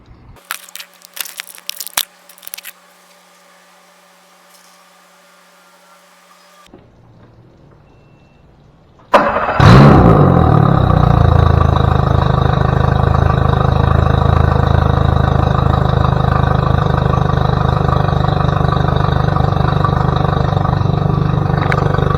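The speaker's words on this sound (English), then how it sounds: "I'll go turn the water on and we'll be able to start the engine" A few clanks and knocks, then quiet, before a Mercury 50 hp outboard motor with an overheating fault cranks and catches into a loud, steady running drone that continues to the end.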